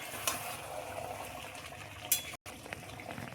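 Chicken with chopped tomato sautéing in a covered pan, a faint steady sizzle and bubbling with a couple of light clinks of a utensil and a brief drop-out near the end.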